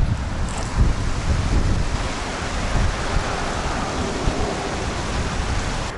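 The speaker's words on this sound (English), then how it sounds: "we found the Peckman River. You see it flowing." Steady broadband rush of the Peckman River flowing in Little Falls, New Jersey, heard outdoors as a continuous, fairly loud wash with no voices.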